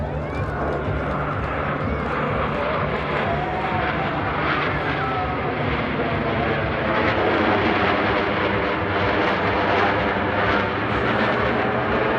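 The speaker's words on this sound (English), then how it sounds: "All 4 aircraft flying as one in this graceful 360-degree rolling maneuver" US Navy Blue Angels F-18 jets thunder overhead in a four-aircraft diamond roll at an airshow, a sustained loud, roaring jet engine blast with a public-address announcer talking underneath.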